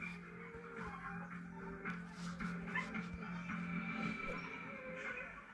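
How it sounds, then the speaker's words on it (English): Six spaniels in a hallway, barking intermittently with whimpers and yips, fairly faint and reverberant over a steady low hum. "6 dogs in the hallway"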